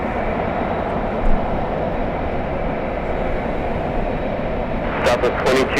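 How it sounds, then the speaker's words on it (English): A Delta Boeing 767-400 jet arriving at LAX from JFK, heard as a steady, broad engine roar that holds at an even level throughout, with a few brief sharper bursts near the end. "We have the 767-400 flying in from JFK"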